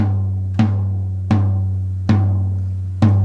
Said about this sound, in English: Strike the drum, then quickly make your key move.